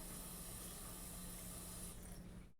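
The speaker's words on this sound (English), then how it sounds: "Let me rinse my knife off." Water from a kitchen tap runs in a steady, close hiss as a kitchen knife is rinsed, cutting off abruptly at the end.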